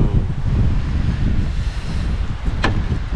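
Steady wind roars and buffets the microphone outdoors, with low rumbling gusts throughout and a brief higher whoosh near the end.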